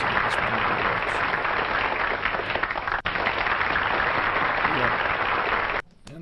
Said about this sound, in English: that's me clapping over there in the corner